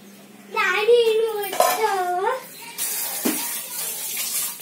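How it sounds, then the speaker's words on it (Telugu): Tap water runs steadily into a sink as a child washes hands, close and fairly loud, while a child and an adult talk over it. "సరే హ్యాండ్ వాష్ చేసుకో"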